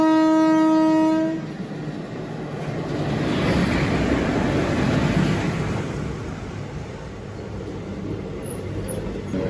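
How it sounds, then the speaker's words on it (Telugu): A train horn sounds briefly at the start, then a loud train rumbles past steadily, swelling and fading over several seconds, travelling from Kazipet toward Secunderabad. "ఏదో ట్రైన్ అయితే కాజీపేట నుంచి టువర్డ్స్ సికింద్రాబాద్ సైడ్ వెళ్తుంది"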